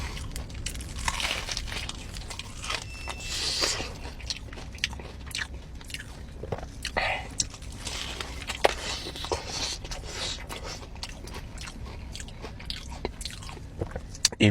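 Crispy breaded Popeyes fried chicken bitten and chewed close up, with repeated crunchy bites and crackling of the coating, alongside faint rustling of wrapping and no talking.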